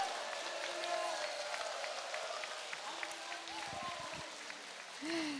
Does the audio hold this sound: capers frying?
no